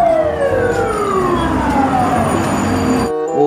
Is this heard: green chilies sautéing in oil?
no